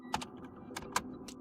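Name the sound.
typing a grep command on a computer keyboard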